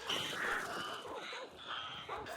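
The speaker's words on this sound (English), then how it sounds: "you have ravens that fly off when they're disturbed" Ravens caw harshly a few times at moderate distance over a quiet ambient background in the video game Hunt: Showdown, their rough calls repeating irregularly.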